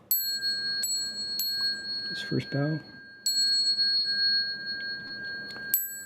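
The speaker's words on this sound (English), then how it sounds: "Let me ring the bell" A small bell is struck several times before a series of bows in a Buddhist sutra lecture, each ring bright and sustained with a long decay, while someone speaks briefly between strikes.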